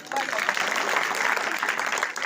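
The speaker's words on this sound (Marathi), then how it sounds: "टाळ्या वाजून टाळ्या वाजवा यांच्यासाठी" Schoolchildren at Babasaheb school clap together in a steady, dense round of applause that holds evenly for a couple of seconds without pause.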